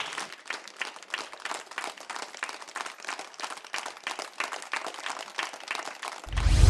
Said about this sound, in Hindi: आप फिर से एक बार मेरे लिए ही तालियां बजा दीजिए।